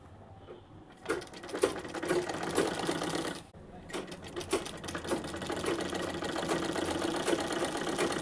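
A sewing machine runs in steady bursts while stitching the side seam of a dress, its rapid needle chatter close and clear, pausing briefly before starting up again.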